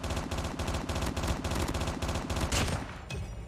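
Rapid automatic gunfire in Call of Duty Mobile, played with the Chicom, rattles in a steady burst of loud, tightly spaced shots for about two and a half seconds, then cuts off into quieter game sounds.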